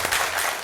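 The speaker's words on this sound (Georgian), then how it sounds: "აპლოდისმენტები." Studio audience at a Georgian comedy game show breaking into a short, dense burst of clapping, loud and close with no talk over it.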